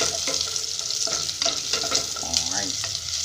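Garlic and onion frying in oil in a pan, with a steady close sizzle and occasional stirring scrapes and clinks, no voices over the hiss.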